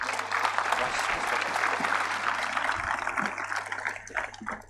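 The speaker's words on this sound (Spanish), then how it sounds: "Vamos a darles un fuerte aplauso al pastor," A church congregation claps loudly and steadily for the pastor at a preaching conference, the dense applause sustained throughout with a faint voice beneath it.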